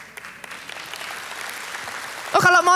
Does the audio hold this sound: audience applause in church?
yes